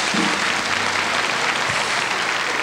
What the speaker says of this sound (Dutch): Het laatste applaus voor Rita Gorita